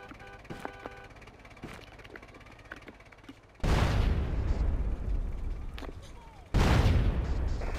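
A bulletproof truck blows up in Grand Theft Auto: San Andreas, with two loud, broadband explosions crashing in a few seconds apart. Each blast leaves a roaring, crackling tail over quieter background game noise.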